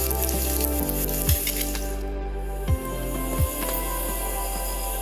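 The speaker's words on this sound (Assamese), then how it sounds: "মাছবোৰৰ তেলখিনিতে আমি নহৰু দিছোঁ, লগত জলকীয়াকেইটা আৰু জিৰাখিনি দি দিছোঁ।" Garlic, dried chilies and cumin sizzle steadily in hot oil left from frying fish, a close, continuous hiss with a few brief louder spits and pops.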